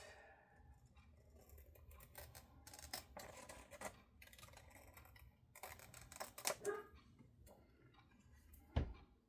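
Scissors trim a paper card in short, irregular snips and crisp cuts with small pauses between them, close and quiet.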